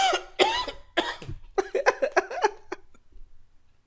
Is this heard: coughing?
yes